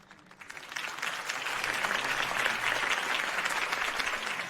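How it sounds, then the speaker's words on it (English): Video game crowd in Batman: The Telltale Series claps and cheers loudly, swelling after a brief quiet start and holding a dense, steady roar of applause. "could have heard that applause"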